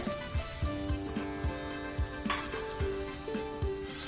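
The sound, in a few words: grated mawa sizzling in hot ghee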